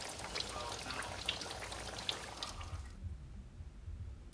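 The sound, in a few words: salmon croquette patties frying and crackling in hot grease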